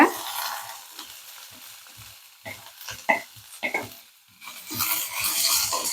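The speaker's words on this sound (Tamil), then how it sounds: "இப்போ ஒரு பேன் அடுப்பில் வச்சுக்கிட்டோம் அதில் நம்ம கொஞ்சமாக எண்ணெய் சேர்த்துக்கலாங்க இப்போ இதில் வெங்காயத்தை சேர்த்துக்கலாங்க" Onions fry in a little oil in a pan with a soft crackling sizzle. Intermittent spoon scrapes and clinks against the pan come and go, and there is no talking.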